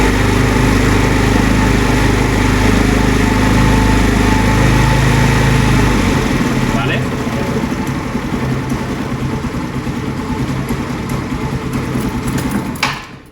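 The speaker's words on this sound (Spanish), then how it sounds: "Voy a acelerar un poco la moto, a ver lo que hace." A motorcycle engine idles loud and close, then revs up and holds a higher, rougher running note during a battery and regulator voltage check, with a brief click near the end.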